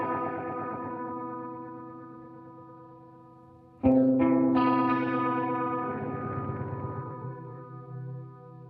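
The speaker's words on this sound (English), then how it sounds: "Sounds like an old tape machine or something." An electric guitar run through an effect that sounds like an old tape machine: a strummed chord fades, then a new chord is struck with wavering, chorused, echoing sustain, alone without talking.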